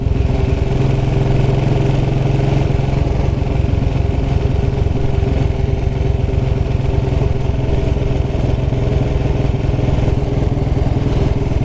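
A 1929 Black Ariel motorcycle running along country lanes, its engine a loud, close, continuous chugging drone with a rough clattering texture that holds steady throughout.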